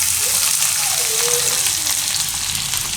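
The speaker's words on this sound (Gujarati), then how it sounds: "તો ડુંગળીને થોડીક વાર પાકવા દેવું" Onion frying in hot oil with cumin, a steady loud sizzle with faint stirring scrapes running evenly throughout, no voices.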